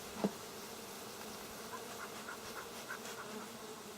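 Honey bees at an open beehive, lifted during varroa mite treatment: a soft, continuous droning hum with a few louder buzzes as single bees pass close, steady and fairly faint.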